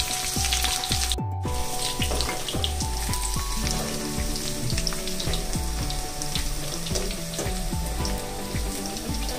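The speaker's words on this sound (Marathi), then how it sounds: "तेल गरम झाले की त्यामध्ये आपल्याला लसूण आणि काश्मीरी मिरची टाकून घ्यायची आहे" Garlic and Kashmiri chili hit hot oil for a tadka, giving a steady, loud, close sizzle with crackling pops throughout and no talking.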